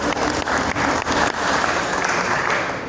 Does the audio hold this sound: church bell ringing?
no